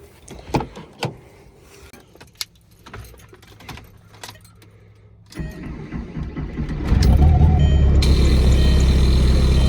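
Diesel VW Beetle, hoodstacked and stanced, cranks and starts after some key jangling, then settles into a loud, steady near idle with a constant hum that grows stronger.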